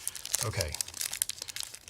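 Wrapper of a Turkish delight chocolate bar crinkles and crackles in quick, uneven bursts at close range, while a person speaks briefly.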